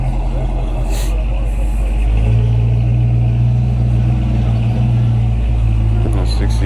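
A 1967 Chevrolet Chevelle at a Cars and Coffee car show rumbles loud and close, its deep engine note swelling and holding as it revs.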